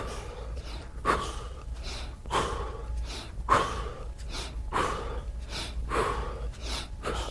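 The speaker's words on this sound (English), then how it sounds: "take a deep breath in and let it out." Deep breaths in and out during an MMA and Muay Thai conditioning drill, close and audible, in a slow rhythm of about six breaths with soft gaps between them and no talk.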